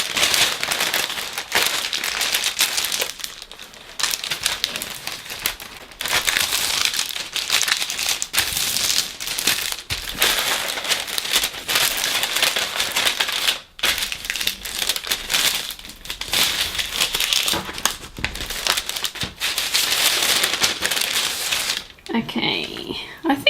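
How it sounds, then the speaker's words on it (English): Continuous crinkling and rustling of paper close by, with sharp crackly bursts and brief pauses throughout. "Sorry about all the tracing paper noise."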